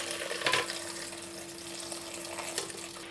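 Sour cherry juice made from frozen cherries trickles through a strainer, a soft steady liquid patter with a brief louder splash near the start.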